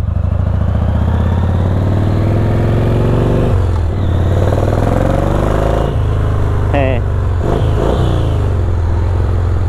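A ZERO Engineering Type 5 motorcycle rides through a turn, its engine giving a loud, close, steady rumble with rising and falling revs and a shift partway through, while someone talks over it.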